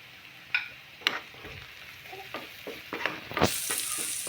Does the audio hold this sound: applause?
no